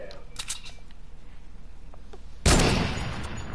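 One close, loud gunshot blast from a video game weapon, sharp and booming with a short decaying tail, after a few faint clicks and people talking.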